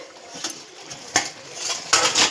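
A metal lid on a pot of homemade tomato sauce is lifted, giving a few light clinks and clatters close by, the sharpest near the end.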